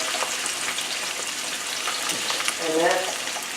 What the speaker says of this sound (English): And they're going to pan fry beautifully